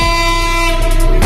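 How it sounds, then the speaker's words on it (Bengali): A freight train approaching Sitakund railway station sounds a loud, sustained horn, a steady tone held close over a low rumble of the rails, briefly swelling near the end. "সো গাইস দেখতেছি একটা সামনে দিয়ে আমাদের মাল ট্রেন আসতেছে।"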